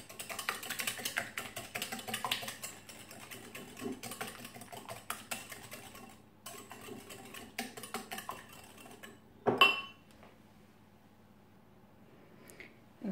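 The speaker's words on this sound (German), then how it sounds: "nun nehme ich mir diesen Schneebesen und rühre die Eimasse" A wire whisk stirs egg mixture for crème brûlée in a bowl, giving fast, close, rhythmic metallic clicking and ticking that runs steadily for about nine seconds before stopping with a final clatter. No one talks.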